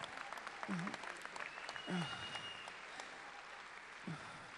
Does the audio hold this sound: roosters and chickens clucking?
no